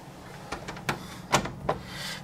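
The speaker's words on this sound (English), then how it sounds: "She's got the door locked here." An office door being locked at a town hall in Grand Island, New York, giving a few sharp clicks and knocks of the lock and handle, spaced unevenly over about two seconds, close by and fairly quiet.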